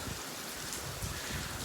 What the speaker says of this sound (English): I would show you guys the majestic rain today